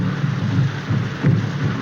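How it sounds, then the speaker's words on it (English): Steady heavy rain pours in a 1932 film scene while low thunder rumbles swell twice beneath it, dense and continuous with no voices. "This rain and those drums."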